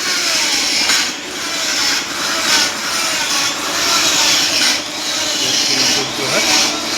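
An angle grinder works steadily on the freshly welded nose of a CAT 320 excavator bucket during a repair, giving a loud, continuous, harsh grinding that wavers slightly in intensity throughout.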